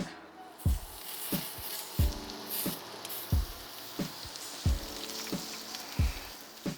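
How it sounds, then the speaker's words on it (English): Snapper skewers coated in taco mix sizzle on a Sabre barbecue with a constant frying hiss, broken by regular thumping knocks about once a second. "And now it's time to cook it on the Sabre barbecue"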